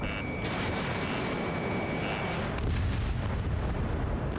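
A missile strikes its target in the air-combat game Ace Combat 7, a loud, continuous rumbling explosion roar lasting several seconds, with a heavier low-end burst midway through.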